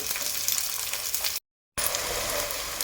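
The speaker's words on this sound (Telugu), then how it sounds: "ఇప్పుడు ఉల్లిగడ్డలు మంచిగా మగ్గాలి పచ్చివాసన పోయేటట్టు మంచిగా వేయించుకోవాలి" Onions frying in a pan for a village-style egg curry, a steady loud sizzle with stirring that breaks off briefly in the middle and then resumes.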